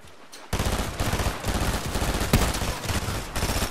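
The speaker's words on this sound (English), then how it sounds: "I just like scaring people with my really loud weapon." A loud automatic weapon in Fortnite Zero Build fires a rapid continuous stream of shots right up close, starting abruptly and hammering on in an even rhythm with no pause.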